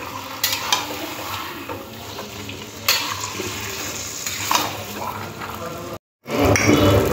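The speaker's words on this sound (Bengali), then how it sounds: "এবারে তেলের মধ্যে দিয়ে দিলাম, দিয়ে ভালো করে মিশিয়ে নিতে হবে।" Boiled, drained taro leaves hiss and sizzle in hot oil as they are stirred and mixed in a pan, with spatula scrapes and a brief break near the end; a voice talks over it.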